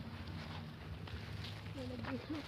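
Wind gusting and rumbling across the microphone outdoors in People's Park, Davao, with faint voices and a few distant tonal calls underneath.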